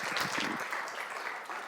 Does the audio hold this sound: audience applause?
yes